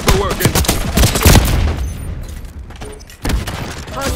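Sniper rifle fire in Call of Duty: a loud burst of rapid shots, then a quieter lull and a sharp blast near the end, with no talk.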